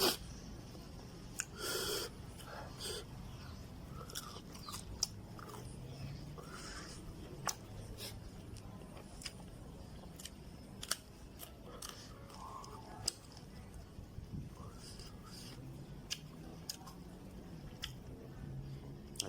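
Fermented fish (pla ra) pounded with galangal in a mortar, a long run of sharp, separate knocks at an irregular pace over quiet background, fairly close but not loud.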